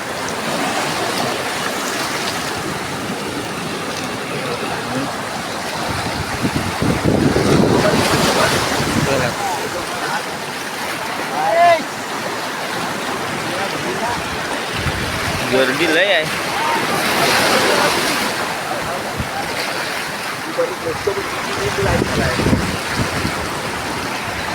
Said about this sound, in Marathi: समुद्रात आला बाई एकदम समुद्रात आला बाय